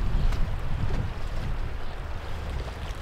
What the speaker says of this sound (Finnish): Pikkusen tuulinen paikka